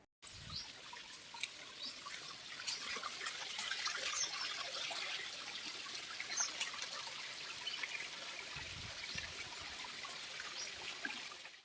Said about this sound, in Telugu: ఇప్పుడు నేను ఇక్కడున్నటువంటి వాటర్ యొక్క శబ్దాన్ని వినిపిస్తాను వినండి